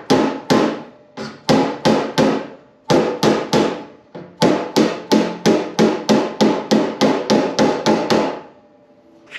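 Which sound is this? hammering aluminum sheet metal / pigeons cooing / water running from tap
hammering aluminum sheet metal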